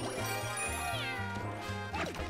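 Cat meows from the Super Mario 3D World video game come through amid busy game music and sound effects in a rapid, bright, chirpy run, with no talking over them.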